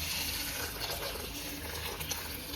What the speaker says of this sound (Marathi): पाणी घालून